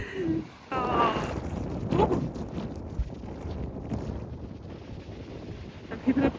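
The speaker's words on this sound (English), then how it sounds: "because of this wind" Strong outdoor wind buffets the microphone with loud, uneven rumbling gusts near a golf course, and a voice briefly speaks over it.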